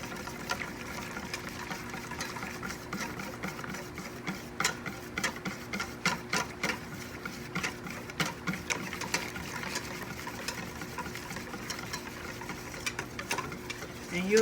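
A spoon stirs thickening Oreo lasagna filling in a double boiler, giving soft, faint, rhythmic scraping taps that repeat steadily, with no talk.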